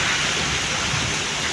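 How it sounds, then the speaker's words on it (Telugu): Heavy rain driven by wind pours down in Bengaluru, a dense, steady hiss with no break and a low rumble beneath. "మాకు ఇక్కడ వాన పడుతూ ఉంది"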